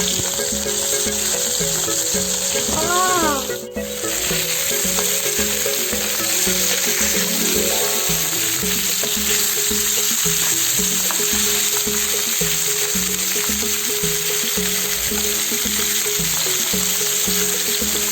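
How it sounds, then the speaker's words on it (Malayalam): Mackerel frying in hot coconut oil gives a steady, close, crackling sizzle that runs without a break, with a brief clatter of a utensil near the start. "ഇനി നമ്മളെ ചൂട് വെളിച്ചെണ്ണയിലേക്ക് നമ്മളിതാ മീനിട്ടെടുക്കാനുള്ള പരിപാടിയാണ്"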